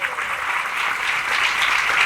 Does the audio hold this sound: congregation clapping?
yes